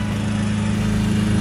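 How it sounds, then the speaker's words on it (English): A neighbor's lawn tractor engine runs nearby with a loud, steady low drone and buzzing harmonic hum, uninterrupted and without any voices. "There's the neighbor with their lawn tractor."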